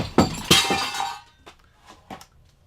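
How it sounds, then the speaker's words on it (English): Glass breaks with a sharp crash and shatter, followed by a few lighter clinks and small tinkling pieces settling, close and loud, then quiet. "glass overboard"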